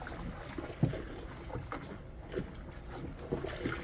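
Homemade neutral dish detergent being stirred in a bucket of 18 litres of hot water, a steady murky sloshing and swishing with soft knocks against the bucket walls, close and continuous throughout.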